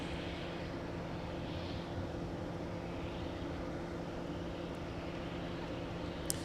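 An airliner touches down at Minneapolis–Saint Paul airport. A steady, distant, even roar of engines and rushing air with a low hum runs through the whole stretch, and no one speaks.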